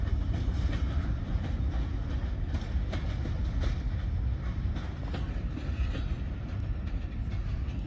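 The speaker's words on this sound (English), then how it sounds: "Norfolk Southern's bringing a whole bunch of empty grain cars over to Indiana High Railway" Norfolk Southern freight train hauling a long string of empty grain cars rumbles steadily past at close range, a continuous heavy roll of wheels on shiny rails with faint rhythmic clicks, no voices.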